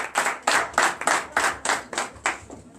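A church congregation at a Sunday service claps together in a steady rhythm, about eight sharp, evenly spaced claps, loud and close, with no talking.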